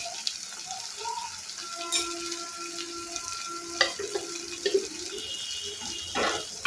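Onion pieces fry in hot oil for an egg masala fry, a steady broadband sizzle with occasional scraping stir clatters and brief bursts of hiss, heard close and alone without voices.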